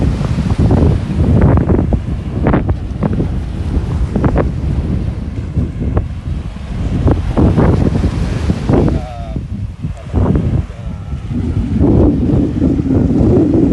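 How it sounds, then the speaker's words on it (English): Wind buffets the microphone at Laguna Beach as ocean waves roll and wash ashore, a steady loud roar with repeated surges of surf throughout. "try to shield the wind noise off, but still provide some waves"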